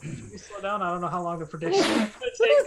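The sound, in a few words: sneeze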